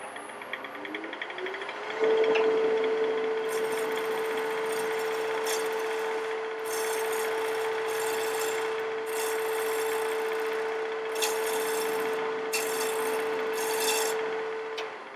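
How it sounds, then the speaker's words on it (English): A wood lathe hums steadily with a constant tone while a shear-scraping tool rubs along the end-grain edge of a wooden platter, giving a continuous scraping rasp with intermittent brighter swishes, close and moderately loud. "Now I'm going to shear scrape this edge, which where I hit the end grain, it's a little tear out."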